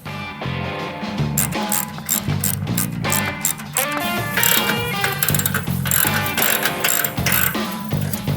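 Allen wrench ratcheting bolts off a Cobra El Diablo muffler on a Milwaukee-Eight Softail Fat Bob, a busy stream of close, quick metallic clicks and clatter with no talk.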